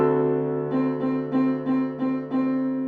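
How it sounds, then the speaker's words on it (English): A sustained D dominant seventh chord from a Bach chorale rings out, then is repeatedly restruck about six times in a steady rhythm, with no voices. "then it goes to a D dominant 7, which sounds like this."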